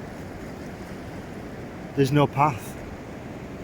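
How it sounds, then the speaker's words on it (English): Waves crash off rocks along the sea shore at Sandsend, heard as a steady, continuous wash of surf noise throughout, with someone speaking briefly over it. "the waves are still crashing off the rocks"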